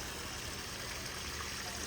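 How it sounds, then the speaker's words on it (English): A small backyard garden waterfall trickles and splashes in a steady, soft, continuous wash, heard alone with no voices. "look at the waterfall, you guys"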